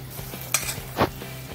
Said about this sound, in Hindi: हमारा ऑयल गर्म हो चुका है। अभी ये कोट किए हुए कॉर्न हम इसमें ऐड करेंगे